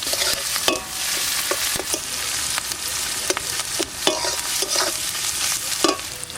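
Onions, bay leaf and cumin fry in mustard oil with a steady, bright sizzle, broken by frequent clicks and scrapes of a spatula stirring in the pan, close up and with no talk.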